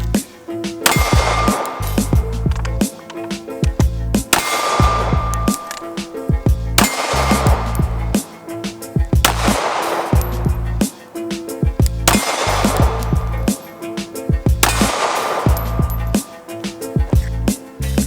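A custom Glock 43 pistol firing two six-round magazines outdoors, heard as six sharp bursts of rapid shots spaced a few seconds apart, loud and close, with ringing metallic echoes and no talk.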